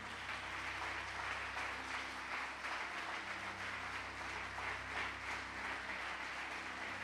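A church congregation at a deliverance seminar breaks into sustained applause, a dense, steady wash of clapping from a large crowd with low hum underneath and no voices over it.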